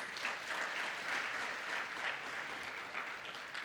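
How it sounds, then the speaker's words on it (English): Graduates and guests at an April 2022 Faculty of Commerce graduation ceremony give a round of applause, a steady, even wash of many hands clapping that fills the hall throughout. "A round of applause for Mr. Paulus."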